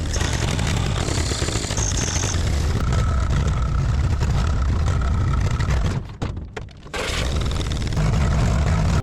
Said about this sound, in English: The machine lurches forward, fighting for every foot of ground, but the engine sputters